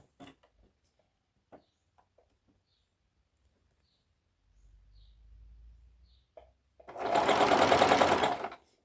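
A sewing machine stitches a sheath dress with double sleeves, running in one steady, fairly loud burst of whirring for about two seconds after a stretch of faint handling clicks and a low hum.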